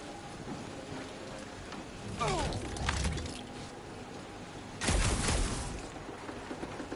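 Steady rain falls in the video game Guardians of the Galaxy, a constant hiss broken by a couple of louder splashing bursts; no voices over it.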